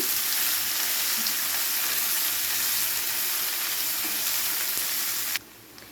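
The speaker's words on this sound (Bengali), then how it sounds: "পেঁয়াজটাকে খুব ভালো করে কিছুক্ষণ ভেজে নেব।" Chopped onion frying in a pan, a bright continuous sizzle that holds steady and close, then suddenly drops away to a quieter hiss near the end.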